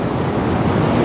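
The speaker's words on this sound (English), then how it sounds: "Oh, waves are coming." Ocean surf washes steadily onto the shore at Rainbow Beach, a continuous close rush of breaking waves with some wind noise mixed in.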